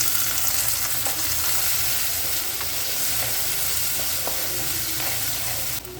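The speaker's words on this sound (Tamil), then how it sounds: "அது வெங்காயம் கொஞ்சம் வதங்கிட்டு இருக்கும்போதே பூண்டு வந்து ஒரு கை நிறைய எடுத்து உரித்து கழுவி வச்சுருக்கேன், அதையும் சேர்த்துக்கலாம்." Onion and garlic sautéing in a pan for a fish curry give a steady, close crackling sizzle throughout, with faint scraping of stirring and no talk.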